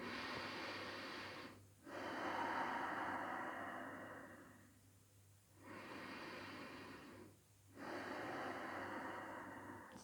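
Slow, deep breaths during a gentle yoga class, long airy inhales and exhales close to the ear with brief pauses between, one full breath cycle after another.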